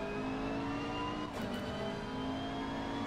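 A race car in Assetto Corsa Competizione held at full throttle through a curve, its engine a steady, close whining roar with a brief dip and surge midway, no voices.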